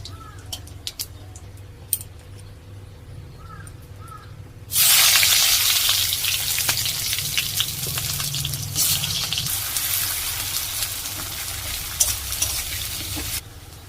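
Chopped onion goes into a pan of hot oil already spiced with cumin, dried red chilli and bay leaf. After a few quiet seconds of faint clinks, a loud, steady sizzle bursts in and carries on under stirring until the end.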